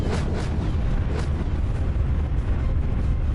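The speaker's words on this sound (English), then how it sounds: "The air was filled with the sound of explosions and the smell of smoke and fire." Airstrike explosions used as sound effects in a war story, a loud, unbroken booming rumble of overlapping blasts that holds steady throughout with no voice on top.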